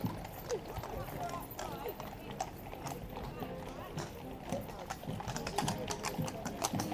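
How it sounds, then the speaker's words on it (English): A police horse's hooves clip-clop on hard ground in an irregular, agitated rhythm, close by amid crowd noise and people talking over it. "Police horse also slightly distressed."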